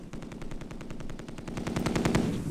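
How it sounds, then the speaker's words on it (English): Machine gun fire from the board-style war game Tigers on the Hunt rattles as one sustained rapid burst of evenly spaced shots, loud and up close, with no voices. "my machine gun did not keep its rate of fire"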